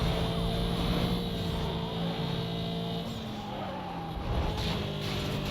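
A VW Golf in Need for Speed, its engine droning steadily with tyres skidding and squealing through a slide, loud and continuous from start to finish.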